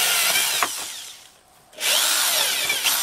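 A power drill bores into a wooden fence board in two loud, whining bursts, each cut off by a brief pause.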